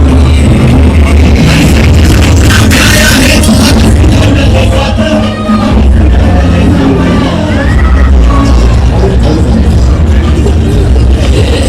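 A dense crowd of fans at the Shiv Jayanti festival in Pune, near Shaniwar Wada, makes a loud continuous outdoor roar of shouts, whoops and yells, with scattered bangs and voices mixed throughout.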